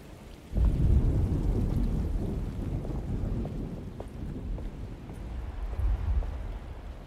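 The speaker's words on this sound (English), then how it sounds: "Just keeping an eye out for the storm" Thunder and rain from a storm in the Alone in the Dark video game: a deep rumble rolls in suddenly and stays loud over steady rain hiss, then swells once more near the end.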